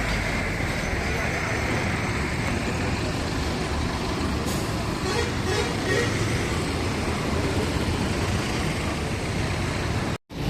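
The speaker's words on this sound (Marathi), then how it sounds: "ही ठाण्याकडून निघालेली वाहन आता ही घोडबंदर रोडनी फाउंटनकडे जात आहेत आणि दोन्ही रस्त्याला वाहतूक जात" Heavy road traffic on Ghodbunder Road between Thane and Fountain, a steady loud roar of trucks and buses passing close by, with engine rumble and a brief hiss like an air brake.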